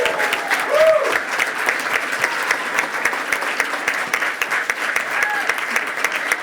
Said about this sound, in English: everybody should offers Jeff a big round of applause for everything that he does